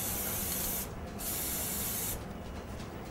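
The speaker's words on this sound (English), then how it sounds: "When spraying, aim the spray head at the object." A Nippon Paint Pylox aerosol spray paint can sprays in two steady, loud hissing bursts close by, with a brief pause between them and softer hiss trailing off at the end.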